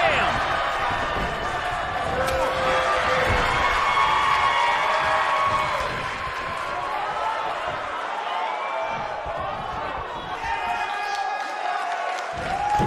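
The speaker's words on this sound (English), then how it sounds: "by the sound of this crowd, I think they're getting what they wanted" A wrestling arena crowd in the WWE 2K19 video game roars and cheers continuously, with thuds from the ring and a commentator talking over the noise.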